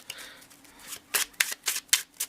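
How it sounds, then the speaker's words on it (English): A deck of playing cards is shuffled by hand during a card trick, with several quick riffle bursts, close and crisp, coming in an uneven rhythm with no talking. "here we're just going to shuffle this a couple times"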